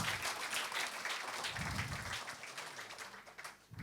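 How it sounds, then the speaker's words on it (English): Audience applause after a panel conversation at an event launch, a dense, steady patter of clapping heard from moderately close, fading slightly toward the end. "A huge round of applause, guys, for that."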